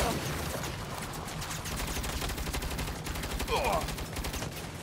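Rapid, sustained turret gunfire in the video game Saints Row (2022), a dense continuous stream of loud shots with faint background game sound.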